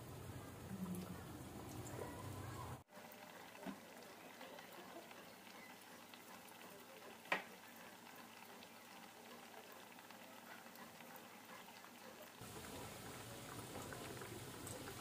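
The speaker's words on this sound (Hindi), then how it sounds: "हम इसे ज़्यादा तेज आंच में नहीं डालेंगे, गैस का फ्लेम हम कम रखेंगे, इसे कम आंच में सेकेंगे।" Mathri frying in hot oil over a low gas flame, a steady, faint bubbling sizzle that runs continuously, with a brief clatter near the start and a single sharp click midway.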